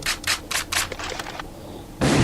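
Several sharp gunshot bursts from Counter-Strike ring out in quick succession, loud and close, followed by a pause and a final burst of fire.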